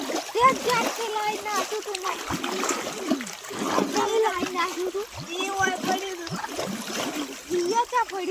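Splashing while bathing in a mini swimming pool on a farm, repeated irregular splashes and water movement close by, mixed with children's voices and chatter throughout.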